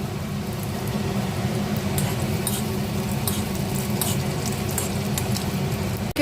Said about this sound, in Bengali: একটা কড়া বসিয়ে দিয়ে একটু সাদা তেল দিয়েছি দিয়ে এর মধ্যে আমি কাজু আর কিশমিশ একটু ফ্রাই করে নেবো